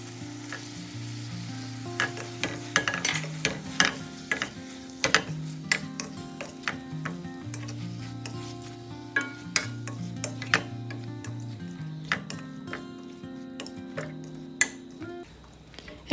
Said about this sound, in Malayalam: ഇനി ചെമ്മീൻ ചേർത്ത് ഒന്ന് നന്നായി മിക്സ് ചെയ്ത് കൊടുക്കാം.